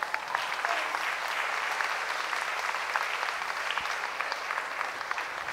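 An audience applauds at the closing ceremony of an international ballet academies gathering, a dense, steady clapping crowd sustained throughout.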